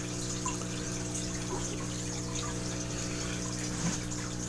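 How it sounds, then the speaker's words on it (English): Water flowing steadily into a fish tank, a continuous close splashing trickle over a low pump hum, with no voices. "So what I'm going to do now is add the water to it."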